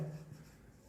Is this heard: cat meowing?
no